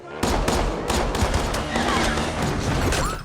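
Dense gunfire in a movie fight scene after an explosion, with rapid shots cracking close and loud almost nonstop, and a few brief voices in the mix.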